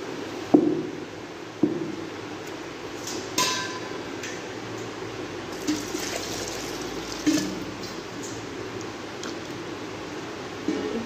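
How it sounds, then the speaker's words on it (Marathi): Wheat grains being washed by hand in water, giving soft sloshing and trickling with several sharper knocks and thuds at intervals, close by and without talk. "अर्धा हात घालून आपल्याला धुवून काढायचे आहे"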